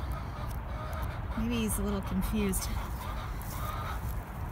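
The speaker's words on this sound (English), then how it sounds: "And you can hear my chickens in the background." A few short chicken clucks on an urban farm, grouped close together, sound in the background while a person talks over steady outdoor noise.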